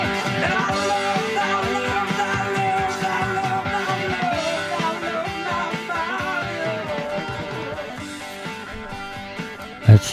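A rock song with lead vocals plays continuously as dense band music, fading slightly toward the end before a brief thump.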